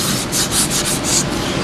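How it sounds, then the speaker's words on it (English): Steady hand sanding of a surface before primer goes on, a close, loud, continuous scratchy rubbing in quick back-and-forth strokes, with no voices. "I'm sanding this so I can primer real quick."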